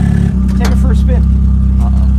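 A car engine on a test drive hums low and steady, rising in pitch after a short moment, while people talk close by over it.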